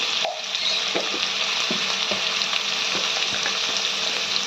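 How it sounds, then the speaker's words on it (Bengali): Pui shaak greens with turmeric sizzle in a pan while a spoon stirs them, giving a steady fry hiss broken by repeated scraping strokes at an uneven rhythm, close and fairly loud, with no voices. "নুন হলুদ দিয়ে ভালো করে সবজির সঙ্গে মিশিয়ে নিয়ে সবজিটা 2-5 মিনিট ভালো করে ভেজে নিতে হবে।"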